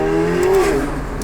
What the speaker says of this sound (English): Every time I downshift in track mode, it gives me that pop backfire.